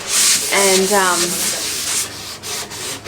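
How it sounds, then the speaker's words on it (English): A fine sanding block rubs over undercoat paint on an antique wooden school desk, producing steady, close scratchy strokes, with a brief tonal squeak partway through. "I'm just gonna give it a sand with a fine sanding block."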